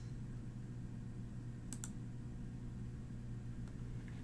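A quick double mouse click, two sharp close taps near the middle over a steady low room hum, then a faint single tick later.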